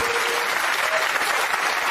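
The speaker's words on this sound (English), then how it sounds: "a round of applause." Studio audience applause on a TV show set, dense and even clapping from a large crowd at close range, holding steady without any speech over it.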